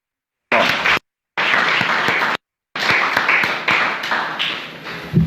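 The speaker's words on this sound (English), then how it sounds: "Brothers and sisters, give yourselves a round of applause." An audience at a ministry address applauds in loud, dense bursts of clapping broken by short gaps of silence, with the sound swelling and fading near the end.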